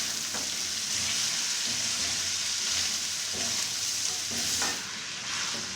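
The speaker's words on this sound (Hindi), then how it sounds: "और गोभी को भी हल्का सा पकाएंगे।" Cabbage is stir-fried with white and black pepper in a pan for vegetable fried rice, giving a steady, close sizzle with occasional scraping stirs, without any talking.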